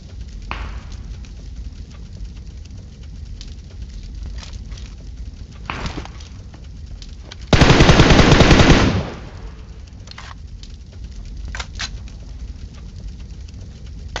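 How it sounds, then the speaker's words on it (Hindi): A loud, fast burst of automatic gunfire rattles for over a second in PUBG Mobile, set against quieter scattered single shots and steady background game noise. "अब उसने इतनी देर बाद फायर किया"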